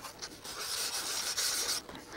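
Steady rasping abrasion, continuous and fairly close, with sandpaper rubbing back and forth over a small road-crossing piece on a model layout; no voices.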